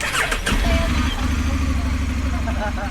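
A motorcycle engine runs steadily at idle after an unexpected start, with a low throbbing rumble throughout, loud and close, while people talk over it.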